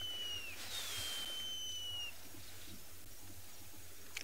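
An unidentified bird calls at sunset on a safari, giving a thin, high drawn-out whistle that slides down and then holds, faint and distant over low steady outdoor background noise.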